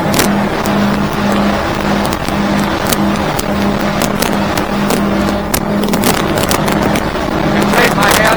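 2023 Stabicraft 2750 Ultra Centrecab boat under way on twin 2023 Yamaha F20 outboard motors, a steady droning hum under wind and water noise while someone talks over it.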